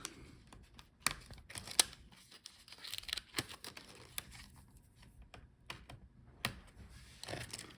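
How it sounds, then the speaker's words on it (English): Keyboard ribbon cable being unplugged from the motherboard of an HP 15 laptop during disassembly, a series of faint, close, small clicks, scrapes and plastic crinkles with a few sharper ticks, no voices. "Unplug the keyboard."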